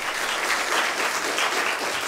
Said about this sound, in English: Please could we give the following learners a round of applause.